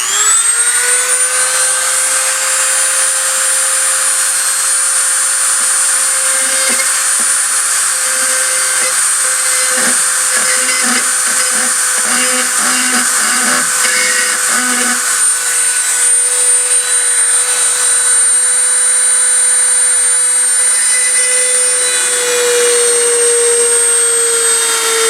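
A small drill bores into the steel arbor of a Sessions clock movement during broken-pivot repair, giving a steady high-pitched whine that holds nearly unchanged for the full stretch, loud and close, with faint scraping under it midway.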